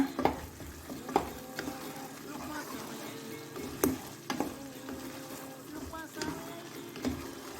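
Kasuri methi malai chicken being stirred in a pan, with a series of sharp scraping and clacking strokes of the spoon against the pan over a soft frying sizzle, fairly close and irregular in rhythm.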